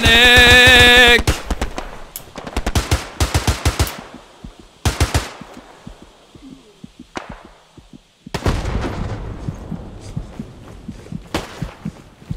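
Gunfire from the Hell Let Loose video game comes as loud bursts of automatic fire and sharp single shots, some close and some more distant, separated by short quiet gaps.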